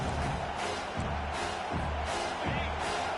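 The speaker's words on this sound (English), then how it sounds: "Listen to this crowd just shaking the girders of this place, trying to help their defense." Stadium crowd cheering at a college football game as the defense faces third and long, a loud sustained roar with rhythmic swells of noise.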